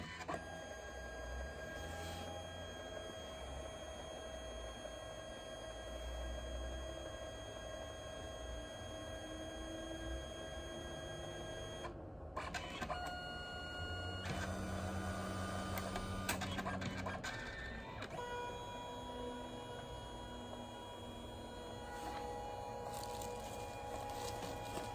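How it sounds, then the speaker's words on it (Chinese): A compact photo printer runs a long print job of several photos, giving a steady mechanical hum with whirring passes and occasional clicks, close and fairly quiet, with no talk. "它需要反复的这样打印几遍"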